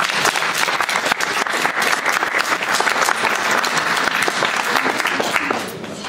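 A crowd applauds steadily, dense clapping from many hands filling the room, easing off slightly in the last moment.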